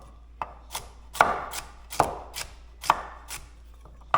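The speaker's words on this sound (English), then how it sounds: "Okay, so these guys I'm gonna quarter." Knife chopping through carrot on a cutting board for leftover Thanksgiving turkey soup: about ten crisp, close chops in an uneven rhythm, each a sharp thud against the wood, with no talking.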